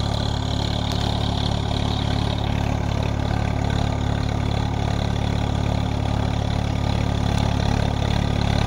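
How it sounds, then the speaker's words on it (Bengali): A Swaraj 855 FE 4WD tractor working a large field with a 6-foot Maschio rotavator in low second gear gives a loud, steady, close diesel drone that holds constant throughout with no talking. "এখন লোয়ে 2 নম্বরে গাড়ি চলছে।"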